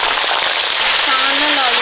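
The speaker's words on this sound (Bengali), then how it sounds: "গরম তেলে আলু আর বিনস ভেজে নিচ্ছি" Potatoes and beans frying in hot mustard oil, a loud dense sizzle and crackle filling the whole moment at close range, with a faint voice-like tone rising near the end.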